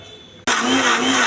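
A mixer grinder blending coconut, mint, tomato and a little salt into chutney kicks on abruptly after a short quiet moment, then whirs loud and steady close by.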